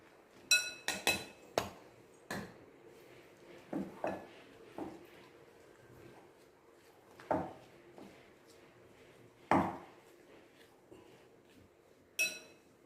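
Ingredients for an eggless plum cake being mixed in a bowl, heard as a series of sharp clinks and knocks of a utensil against the bowl, irregularly spaced with quiet gaps between.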